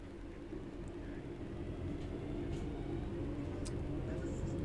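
A train rolls along in a train simulator game, its steady low rumble and rail noise holding constant and growing slightly louder, with faint brief squeaks and clicks above it.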